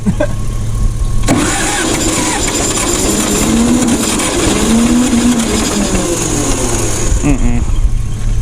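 An old propane forklift that has sat unused for years cranks and catches, then settles into a loud, rough idle with its revs shifting slightly. The machine is close and dominant, and voices speak over it.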